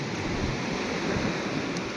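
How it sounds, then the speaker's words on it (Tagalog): Strong ocean waves surge steadily on a beach, a constant broadband roar with a gusty low rumble of wind on the microphone, no pauses or distinct breaks in the churning surf. "Grabe ang lakas ng alon."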